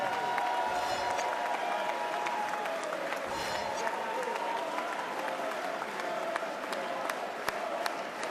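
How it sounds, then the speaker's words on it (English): Boxing arena crowd applauds and cheers after a British lightweight title fight, a continuous broad wash of clapping with a voice booming over a public address system. "Your winner, and having made his second successful defense of his British lightweight title, big applause to"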